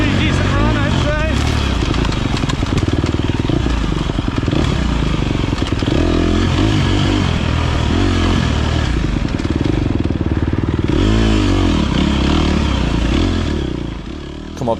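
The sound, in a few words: dirt motorcycle riding wide open in first gear uphill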